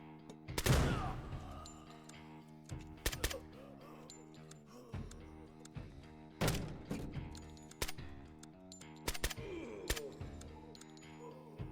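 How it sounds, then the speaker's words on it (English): Frag grenade blasts and bursts of tactical gunfire in the video game Door Kickers 2, a sharp loud explosion near the start followed by several scattered heavy shots and thumps over about twelve seconds, with a faint musical tone underneath. "I am going to chuck a frag into the middle of here."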